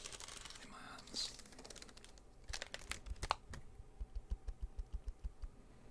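Clicks and taps of fingers on a computer keyboard held in the hands, played slowly in a quiet close-miked setting, with a crinkly rustle early on and a run of soft rhythmic keystrokes toward the end.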